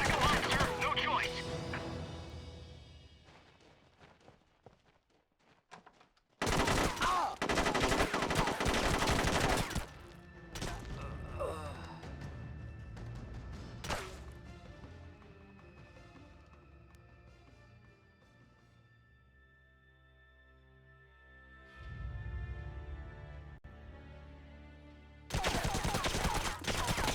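Gunfire in the video game SOCOM: Combined Assault breaks out in loud bursts of shots, with quieter game sounds and talk in between and another burst at the end.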